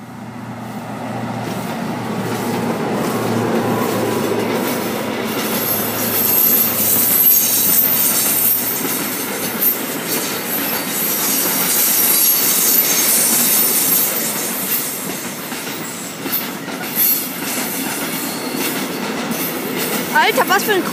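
An ÖBB freight train bound for Jesenice, hauled by two ÖBB 2016 locomotives, rolls steadily past at Rosenbach, close and loud, with rhythmic wheel clatter and sharp, high wheel squeals throughout.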